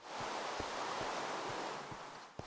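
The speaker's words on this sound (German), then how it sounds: "Und dieser Regen, der nervt aber verdammt nochmal, ey." Steady rain falls in a survival video game set in a snowy area beside a river, forming a constant broadband hiss with a few soft, dull thumps underneath and no voices.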